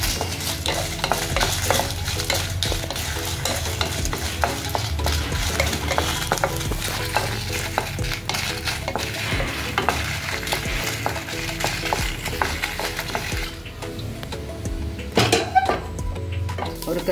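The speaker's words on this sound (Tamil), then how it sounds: "மிளகாய் 10 மிளகாய் போட்டுக்கலாம்." Ten dried red chillies sizzle and fry in a pan while making a spice powder, with steady close stirring and scraping against the metal that continues the whole way through.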